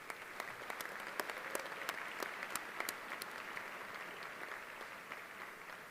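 Audience at a sports hall of fame induction ceremony applauds, a steady clatter of many hands with sharp individual claps standing out, fairly distant and soft, no talking over it.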